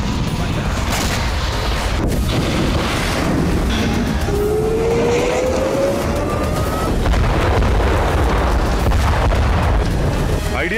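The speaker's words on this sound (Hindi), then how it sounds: "इसराइल ने अदलॉन में हिजबुल्ला की साइट पर एक के बाद एक 3 बड़े धमाके किए।" Heavy booming blasts from Israeli strikes on Hezbollah sites in Lebanon rumble continuously, one after another, loud and dense, with a faint high whine sliding across the noise.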